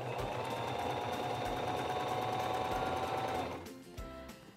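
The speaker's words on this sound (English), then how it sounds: "So I'm going to place my fabric under the presser foot, lower the presser foot, and begin sewing." A SINGER 2273 Esteem II sewing machine runs a straight stitch in a steady, fast, continuous mechanical whir, loud and close, before stopping abruptly near the end with a brief clunk.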